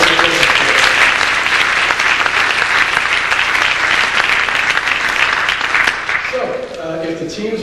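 Audience applauding at the introduction of a business case competition, steady loud clapping filling the room for several seconds before thinning and tapering near the end.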